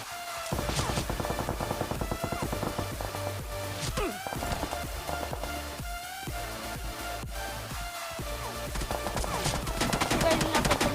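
Dense, continuous rapid gunfire in the game BGMI (Battlegrounds Mobile India), with bursts and crackling shots throughout, loud and sustained, in a busy game soundscape.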